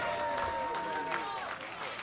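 Outdoor crowd applause for a brass band from Buxton at an evening gathering, a soft continuous patter of clapping heard at a distance.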